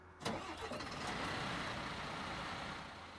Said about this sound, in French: Démarrage du moteur.